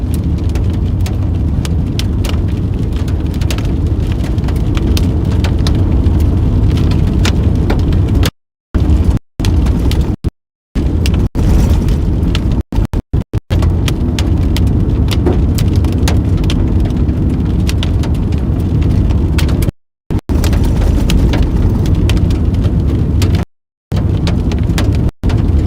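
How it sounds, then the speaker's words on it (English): Heavy rain and hail pound down during a thunderstorm seen while storm chasing, a loud, dense, unbroken roar of impacts with brief dropouts and no talking. "Starting to hear bigger hail now."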